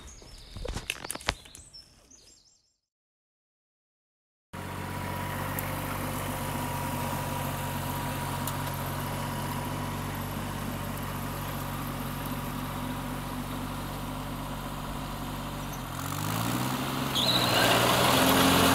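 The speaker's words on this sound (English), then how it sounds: "This mower really does get abused here. It clears up everything." Petrol lawn mower engine running steadily while clearing overgrown ground in a vegetable garden, a loud continuous drone close by after a brief cut of silence, rising slightly near the end.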